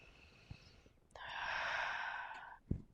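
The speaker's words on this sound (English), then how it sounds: "I want you to just take a few deep breaths in." One long, steady breath drawn in and let out during a guided meditation, soft and airy and close, framed by a couple of faint clicks, with no talking.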